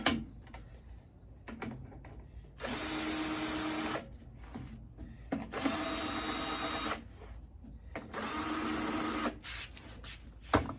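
A cordless drill whirs in three steady bursts of a few seconds each while tightening tension rods on a vintage Japanese stencil snare drum, separated by quiet pauses with small clicks.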